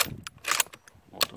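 A single sharp gunshot crack from a Mosin OTs-48 sniper rifle on a 50-meter range right at the start, followed by faint rustling and a couple of softer bursts of noise.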